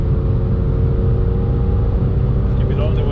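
A race car engine on a track runs loud and steady throughout, a dense low rumble with a faint rising tone near the end, while a voice talks over it.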